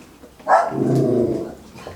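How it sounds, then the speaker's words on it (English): A dog gives a single close, loud bark that drags into a drawn-out growling whine, heard alone in a workshop setting with no talk over it. "You want to bark during my video?"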